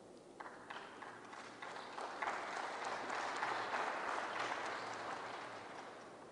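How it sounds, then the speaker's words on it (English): Audience applause during a presidential State of the Nation Address in the Philippines, a steady wash of many hands clapping that swells midway and then gradually eases off, heard without speech. "If you are tired of clapping, you just say so I can make a shortcut"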